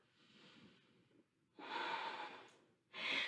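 Deep yoga breathing during a warrior-pose flow: a soft breath, then two long, close, airy exhalations through the nose and mouth, the last one short and forceful.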